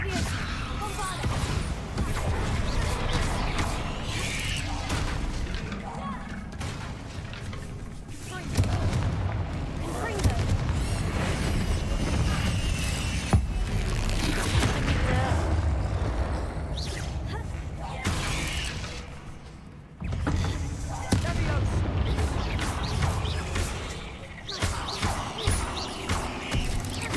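Bombarda spell blasts go off against trolls in the Hogwarts Legacy game, heavy booms and crashes repeating through a loud, dense battle, with voices speaking and shouting over the fight.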